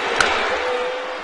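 A baseball bat cracks once on a foul ball at a packed Phillies–Braves game in Atlanta, one sharp snap early on, nearly swallowed by the steady roar of a big stadium crowd.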